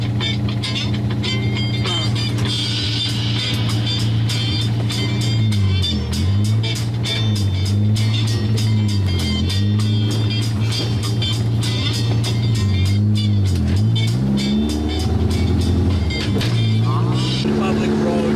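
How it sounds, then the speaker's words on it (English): Car engine droning steadily while driving on a public road, a low hum that rises and falls through repeated gear changes, heard from inside the cabin with people talking over it. "I'm gonna drive my car for the very last time"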